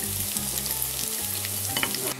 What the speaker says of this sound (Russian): Обжариваем с двух сторон до готовности